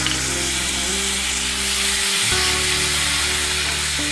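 Garlic paste frying in hot oil with dried red chilies for a Bengali-style katla fish head curry, a steady close sizzle that runs unbroken with a brief stir near the middle.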